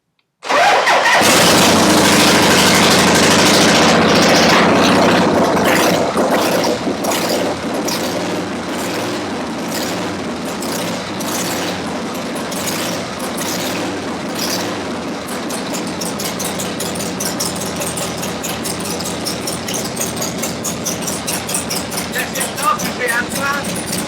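A motorcycle engine, started by bridging wires with the choke on, cranks and roars to life loudly, then settles into a steady, rapid idle that continues throughout.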